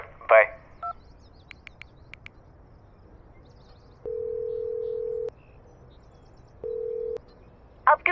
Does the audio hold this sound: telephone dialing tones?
yes